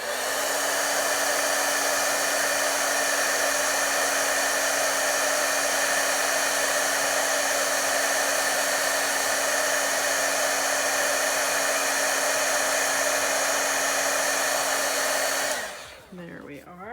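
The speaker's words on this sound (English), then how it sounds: "heat it tool that I used to dry the ink" A heat embossing tool blows hot air onto an inked card in a steady, loud, even whir that runs unbroken for about fifteen seconds before switching off with a brief wind-down.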